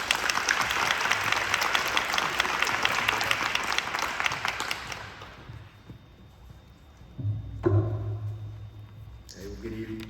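An audience at a school-system mental health event claps and cheers to welcome keynote speaker Dustin Haraway. The loud, dense applause lasts about five seconds, then fades into quiet room noise with a few faint voices.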